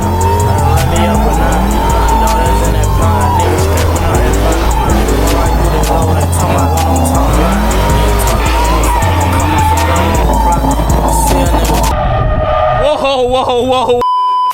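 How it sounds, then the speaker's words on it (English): Dodge Hellcat sliding through corners, loud engine roar with tire squeal across the whole stretch, broken by an abrupt cut near the end where a few brief tonal squeals remain. "we will be sliding every corner we take in the STOLN cat"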